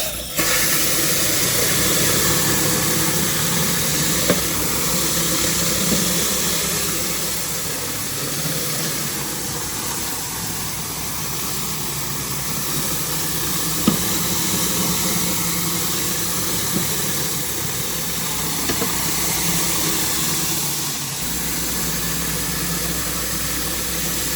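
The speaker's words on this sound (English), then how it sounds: "I've now switched to the Mini Mondo 10-gallon-a-minute machine and 200 feet of 3/8 pressure washing hose." A Mini Mondo 10-gallon-a-minute pressure washing machine runs with a constant mechanical drone, feeding a 200-foot 3/8 hose, with a few faint knocks and a slight shift in tone near the end.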